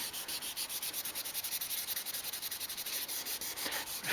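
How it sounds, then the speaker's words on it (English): Wet or dry 1500 grit sandpaper rubbed by hand over old car paint on a Toyota Carina E barn find, a soft rhythmic scratching of quick even back-and-forth strokes, close and fairly quiet. "It's only a 1500 grit this, but it's nice and gentle. It will go through eventually."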